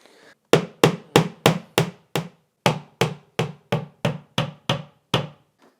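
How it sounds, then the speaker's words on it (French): Hammering to hang a trophy on a wall: a brisk run of six loud, evenly spaced hammer blows, a brief pause, then about nine more, close and sharp, with no talking. "on va aller chercher un marteau."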